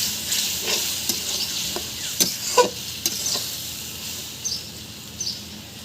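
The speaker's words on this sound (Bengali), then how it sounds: "এখন ভালোভাবে নাড়াচাড়া দিব।" Fish in spiced oil hisses faintly in a pan as a spatula stirs it, giving a series of soft scrapes and light metallic taps over the sizzle, close by and alone.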